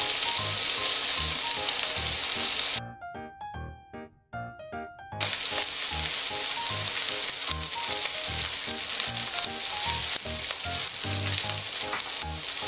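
Food browns, sizzling and crackling loudly in a hot saucepan, with a short gap where the frying drops away before resuming at full intensity.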